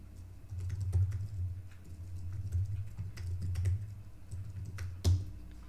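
Computer keyboard typing, a run of quick soft clicks at an irregular pace, close and fairly quiet over a low background hum.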